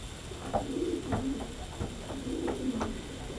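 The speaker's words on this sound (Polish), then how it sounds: "Jest to gołąb" A racing pigeon coos softly at close range, repeating low, throaty rolling calls in a short series over a faint background hiss.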